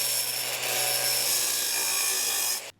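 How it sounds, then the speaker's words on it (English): An angle grinder grinds welds off a John Deere lawn mower in one harsh, continuous, high-pitched pass, loud and close, then cuts off abruptly at the end. "I'm gonna grind off these 2 welds and we'll start over"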